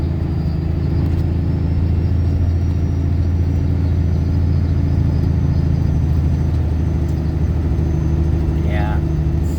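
A tractor pulling a trailer runs with a steady, heavy low engine rumble heard from inside the cab, constant throughout while someone talks over it.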